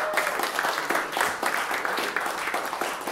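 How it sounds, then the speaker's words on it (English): An audience claps for a performer introduced on stage at a small music show, a lively burst of many hands with audible individual claps pulsing through, fairly close and loud. "So put your hands together, buddy"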